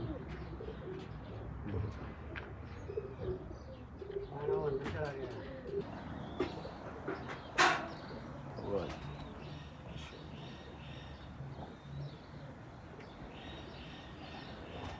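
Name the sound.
Teddy pigeons cooing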